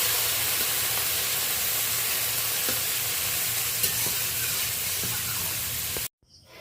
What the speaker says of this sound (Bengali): চিংড়ি মাছটা একটু হালকা করে ভেজে নেব